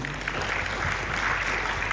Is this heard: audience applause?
yes